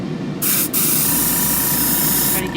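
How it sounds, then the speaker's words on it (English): A spray bottle squirts cleaner onto a purple stain in steady bursts, each a close, loud hiss, with a brief break between the first two sprays and another spray starting near the end. "I'm going to keep spraying."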